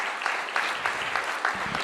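A church congregation gives a short burst of clapping, a thin, moderately near patter from a modest crowd with a few sharper claps standing out, lasting only a couple of seconds.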